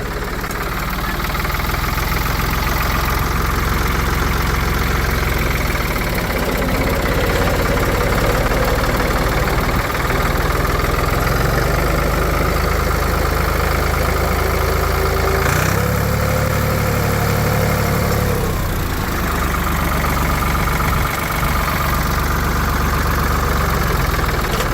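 A 1984 Ford 340A industrial tractor and skip loader engine runs steadily in low gear, giving a continuous loud, close diesel drone with a slight knock and some pitch shifts partway through.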